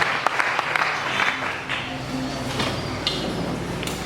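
Church congregation clapping at a Sunday service in Muanda, a dense continuous patter of many hands filling the room at steady volume, with a faint voice or murmur underneath.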